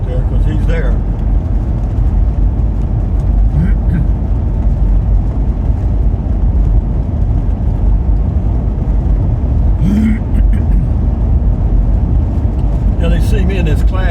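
A Class C motorhome drives along a hill road, its steady engine and road rumble continuous and close throughout, with voices talking over it.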